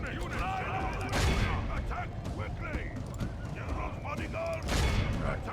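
Heavy cannon fire in a video game battle against the Teutonic Order, broad booming blasts at about one second and again near five seconds amid a continuous clatter of battle noise, with someone talking over it.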